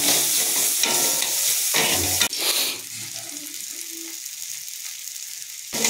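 Tomato cooks in turmeric-spiced oil in a pan, giving a loud, close, steady sizzle that is briefly broken by stirring before it drops to a softer, even frying hiss.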